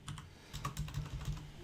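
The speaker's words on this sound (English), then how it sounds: "we're going to type in all lowercase" Rapid keystrokes on a computer keyboard while entering text in Word 2016, an uneven run of close, light clicks against a faint steady hum, with no voices.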